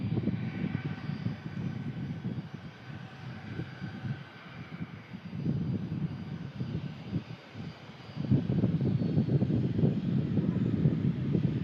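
A Hawker 750 business jet taxis out at an airport, its engine whine a steady rumbling drone mixed with wind noise, moderately distant and rising louder toward the end.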